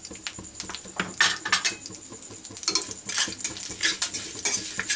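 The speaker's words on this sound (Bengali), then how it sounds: "ফোড়নটা একটু ভেজে নেব।" Mustard seeds, cumin, curry leaves and a dried chili fry in hot oil, a busy crackle and hiss with repeated metal spoon scrapes and clinks against the pan, close and steady for several seconds with no talk.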